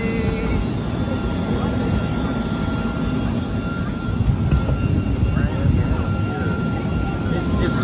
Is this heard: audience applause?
no